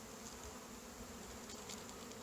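Honeybees buzz steadily around a hive frame lifted from an open hive during a varroa mite check, a soft, continuous drone with no talk.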